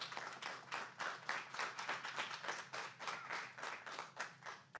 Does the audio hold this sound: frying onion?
no